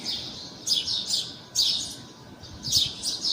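Bird chirps and tweets ring out outdoors on a farm-like setting in three bright bursts roughly a second apart, fairly close, over a soft hum of background noise.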